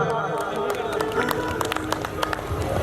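Crowd applause rises at a lively Punjabi stage show with a duet singing performance, steady clapping mixed with murmuring voices across the hall, moderately loud throughout.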